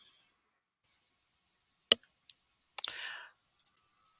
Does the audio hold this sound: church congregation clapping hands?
no